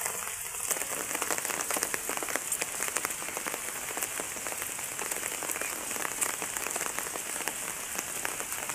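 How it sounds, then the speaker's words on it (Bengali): Heavy rain pours steadily over waterlogged fields, a dense, continuous hiss of drops striking surfaces with no letup throughout. "এই যে চারিদিকে কিন্তু প্রচুর পরিমাণে বৃষ্টি আসছে।"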